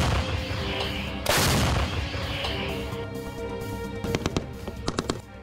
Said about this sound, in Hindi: गोलीबारी करते दिख रहे हैं।